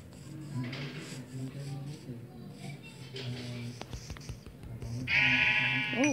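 Sheep in the Minecraft video game bleat a few times over game sounds and quiet clicks, the last bleat loud and close.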